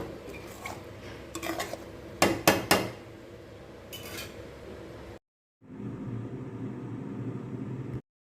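Pepper thokku being stirred in a pot: a few sharp clanks of a spoon against metal at first, then a steady scraping stir, heard close with no talking.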